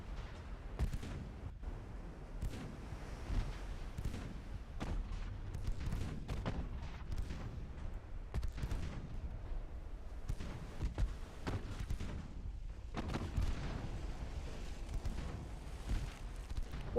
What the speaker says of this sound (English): Get all the guns to bear. Fire when ready.